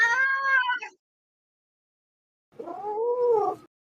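A new kitten gives two clear, fairly loud meows, the first short and bright, the second longer and lower after a silent pause of nearly two seconds, close to the listener with no other sounds.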